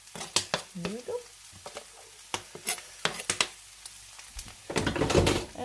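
Potato groestl frying in a pan while being stirred, sharp scraping and tapping strokes of a utensil over a low sizzle, building to a denser burst of scraping near the end, close by and without voices.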